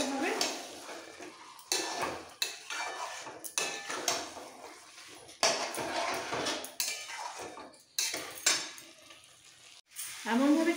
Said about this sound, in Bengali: এমনভাবে চিকেনটা কষাতে হবে যাতে কষাতে কষাতে চিকেন ভাজাও হয়ে যায়